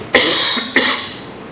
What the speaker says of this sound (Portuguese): Desculpa a minha tosse